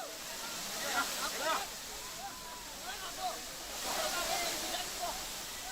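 A monsoon-season waterfall at Amboli rushes with a steady, broad roar throughout, while a voice talks over it.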